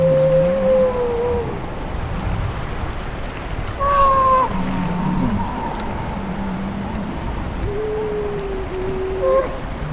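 Grey seals on Skokholm Island giving long, wavering, mournful calls that rise and fall, several drawn-out wails over a few seconds against a constant background of wind and sea noise.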